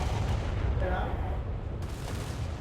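Naval guns fire at a light cruiser in War Thunder, sending heavy booming gunfire through a dense, rumbling battle soundscape, with a sharper report near the end and someone talking over it.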